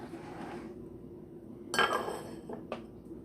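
A lid is set down on a crockpot of chicken and dumplings, giving a sharp ceramic clink followed by two lighter taps against a quiet kitchen hum.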